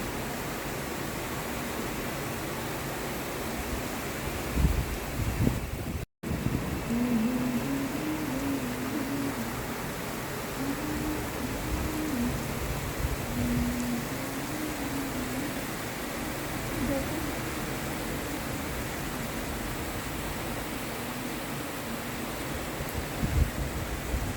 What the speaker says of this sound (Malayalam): അടിപൊളി, മഴ പെയ്യുന്നൊക്കെ